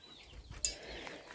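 Hens in a backyard poultry yard at feeding time give a few faint, brief clucks with one sharp knock midway, over a low rumbling background.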